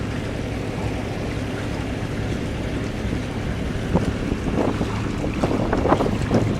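A sailboat under way off Sarasota, with steady wind rush and water wash around the hull, a continuous broadband roar with some brighter splashes toward the end, no voices.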